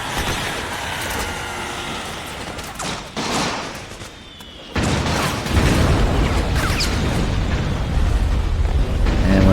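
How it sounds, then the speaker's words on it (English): Heavy bombing of a building in Metal Gear Solid 4 roars as a dense wash of explosions and crackling blasts, with a lull before a loud, sustained rumbling boom that continues to the end. "You can see it get bombed in real time."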